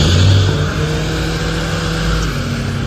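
Ford Mustang engine rumbling loud and low at an Atlanta car meet, a steady heavy idle-to-rev drone with no talk over it.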